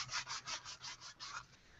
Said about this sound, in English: I'm going to just go ahead and sand.